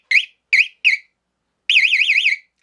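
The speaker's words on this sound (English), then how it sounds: "Usually if you hear that beep, you know you're good to go" Electronic beeps from a Valentine radar detector being tested on a motorcycle: three short pulsed tones, then a longer warbling tone, loud and close with no other sound.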